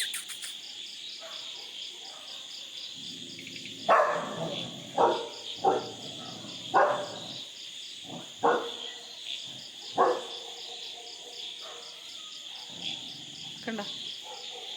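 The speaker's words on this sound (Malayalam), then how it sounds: "കുരയ്ക്കുന്നുണ്ട്" Dogs bark in short separate bursts at a moderate distance, a handful of barks spread across the scene over a steady chorus of crickets in quiet night-time surroundings.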